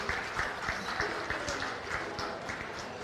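An audience at a county fair goat show claps for a young champion exhibitor, with moderate, scattered applause and distinct individual claps that continue steadily at a middle distance.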